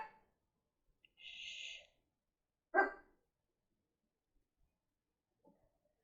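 A single sharp bark stands out near the middle, preceded by a brief high whine, with quiet gaps and a faint soft sound toward the end.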